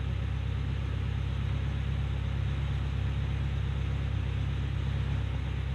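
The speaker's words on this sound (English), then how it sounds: "first time the engine's run under its own power in a week." A Chevy Caprice PPV police car engine idles after a fuel pump failure was repaired, giving a steady, even low rumble that holds unchanged throughout with no voices.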